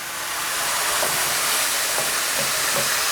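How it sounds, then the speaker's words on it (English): Kettle water hisses and sizzles into hot spice paste in a pan for a sag aloo dish, with a loud, continuous steamy hiss and a few soft clicks from stirring. "we just take some water out of the kettle and just gradually work this in"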